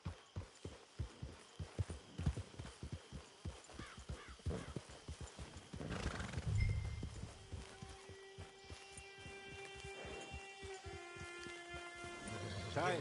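Horse hooves clip-clop at a steady walking rhythm in a PS4 video game, loud and close for the first six seconds, then fading under a sustained tonal game score and ambient sound.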